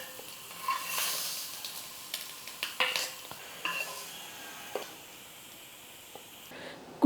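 Egg masala fry crackles and sizzles in a pan, a soft steady hiss broken by light scrapes and stirring clinks, close-up and moderately quiet, with no talking.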